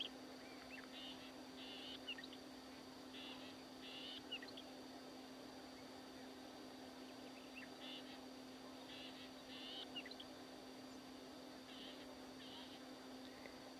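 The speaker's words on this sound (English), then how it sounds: "a couple birds twittering and tweeting" Outdoors on an overcast, muggy day, a couple of birds give faint, scattered chirps and short twitters far off over a steady low hum.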